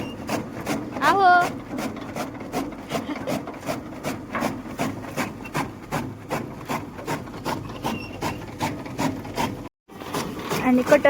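A village chaff cutter chops livestock fodder in a fast, even run of rhythmic chopping strokes heard up close, with a short break near the end, and voices are faintly present.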